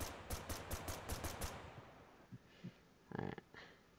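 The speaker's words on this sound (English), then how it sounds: "This is a burst assault rifle." A burst assault rifle fires in the game Echo Point Nova, a rapid run of evenly spaced shots followed by a few quieter single pops and a short tight burst, close and punchy.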